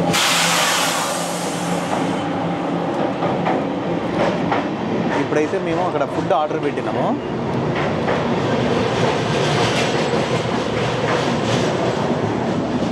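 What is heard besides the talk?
inside a moving superfast train, Bangalore to Delhi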